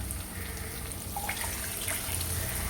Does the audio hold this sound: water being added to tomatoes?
yes